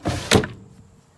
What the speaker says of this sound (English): So we've got a big drawer in here.